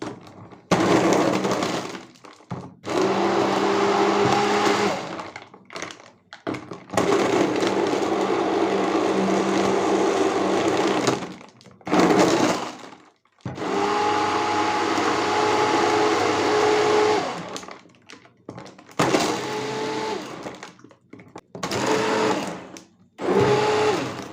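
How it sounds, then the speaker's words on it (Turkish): A blender whirs through basil ayran with ice cubes in several loud bursts, each a steady grinding roar with the ice rattling, separated by short pauses. "Ve arkadaşlar bir defa daha blenderımla geçeceğim."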